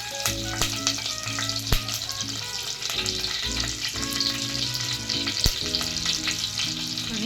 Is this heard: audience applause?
no